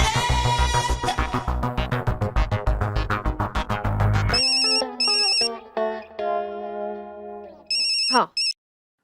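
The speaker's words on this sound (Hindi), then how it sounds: "फोन करके चेक करता हूँ माधवी कहाँ है।" An outgoing phone call rings in a Hindi TV sitcom scene: rhythmic musical beats give way to electronic ringing tones in separated bursts, loud and close, ending abruptly.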